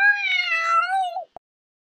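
A house cat gives one long, clear, close meow that falls at the end, followed by a short click and then silence.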